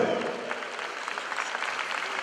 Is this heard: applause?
yes